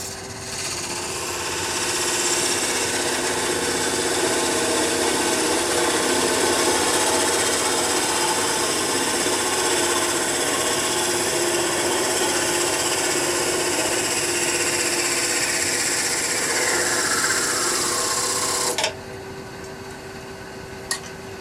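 A wooden piece spinning on a lathe at raised speed gives off a steady, loud rasping whir with tool contact, holding evenly for most of the stretch before dropping abruptly to a quieter hum near the end.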